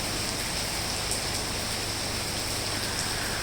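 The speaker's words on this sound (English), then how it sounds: "Has it rained this well, huh?" Steady, dense rainfall pours down outdoors in a heavy shower, a loud continuous hiss with no breaks and no voices.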